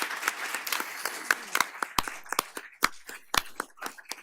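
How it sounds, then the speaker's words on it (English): Scattered audience applause for a transportation panel at a community electrification event: a modest crowd clapping in irregular, fairly sparse bursts heard from within the room. "Could we get a round of applause for the transportation panel?"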